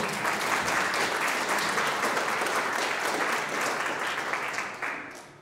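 A full audience applauds steadily at a school graduation gala, with dense, even clapping holding for several seconds before tapering off at the end.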